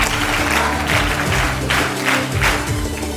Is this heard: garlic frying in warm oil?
no